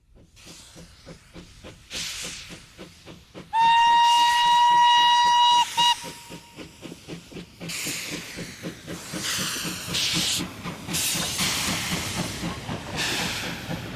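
A steam train at a steam festival on the Baie de Somme gives a loud steady whistle blast, with rhythmic chuffing running underneath, then breaks into bursts of strong broadband hissing as steam vents nearby.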